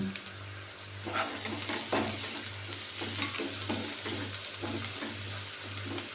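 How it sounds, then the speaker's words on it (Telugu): Turmeric being stirred into a tomato and cauliflower curry in a pan, a spoon scraping in a steady repeated rhythm over a constant low hum and soft sizzle, close and moderate in level. "ఇలా తిప్పుకొని"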